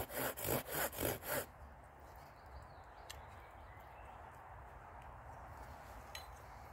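Saw strokes cut notches into wood for a survival trap: about five quick rhythmic rasps, close and clear, then quiet outdoor background with faint ticks.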